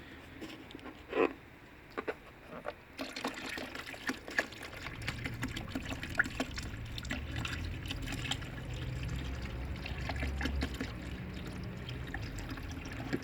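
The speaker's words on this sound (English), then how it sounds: "A bit boring sitting here watching me pour this out" Diluted sodium hypochlorite and water, about 10 litres mixed for killing black spot lichen on a patio, poured out in a steady low splashing stream with scattered drips and trickles, close and moderately loud, with no talk.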